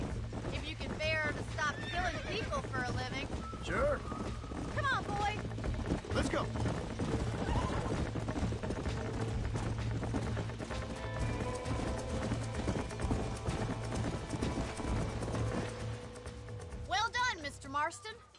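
Horses in the Red Dead Redemption video game neigh and whinny repeatedly over a steady clip-clop of hooves, with mechanical clinks in the mix and people talking throughout.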